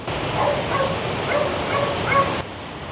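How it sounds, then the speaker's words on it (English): A dog in a Hawaii backyard yips and whimpers excitedly at someone outside, short repeated high-pitched calls over a dense, steady background noise. "Can you hear my friend's dog?"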